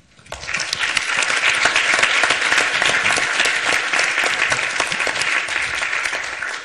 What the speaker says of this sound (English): Can we please give another round of applause to our wonderful panelists?